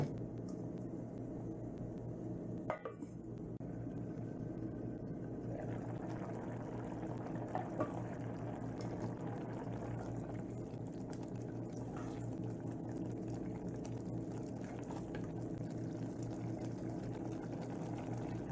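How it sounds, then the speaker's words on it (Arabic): Spinach curry with paneer simmering in a covered pot, a quiet continuous bubbling hiss with a couple of faint clicks, heard alone without talk. "أغطي القدر وأترك السبانخ ينضج دقائق"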